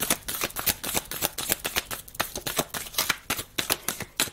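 Tarot cards shuffled by hand, a rapid run of crisp riffling flicks and soft slaps close by, steady and busy with no talking.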